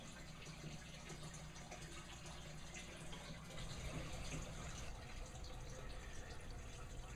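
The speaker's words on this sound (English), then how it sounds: "The siphon is working and it's draining." An aquaponics bell siphon drains water in a steady, close gushing flow with continuous splashing and trickling, growing slightly louder midway.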